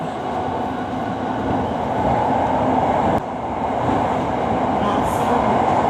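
A Bangkok SRT Red Line electric commuter train rounds a curve and accelerates, rumbling along the rails with a steady, continuous roar, close and constant, with a faint rattle of the cars.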